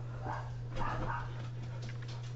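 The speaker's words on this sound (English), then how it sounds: "The way he's barking." A dog barks a few times close by, sharp yips over a steady low electrical hum, with no one talking.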